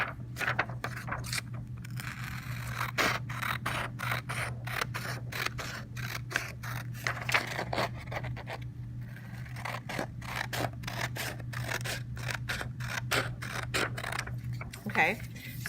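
Scissors snip around the edges of a paper foldable in a quick, steady series of small crisp cuts, faint and close, over a constant low hum.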